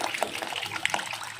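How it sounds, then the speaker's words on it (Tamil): Water poured onto washed urad dal in a bowl for soaking, a short burbling pour with small splashes. "இப்போது இதுக்கு ஒரு திட்டமாக தண்ணி ஊற்றுங்க"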